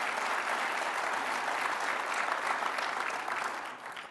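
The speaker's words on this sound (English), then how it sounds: "Let's give him a round of applause." An audience at a 2010 candidate forum claps in a full, sustained round of applause that holds steady and then tapers off near the end, with no voices over it.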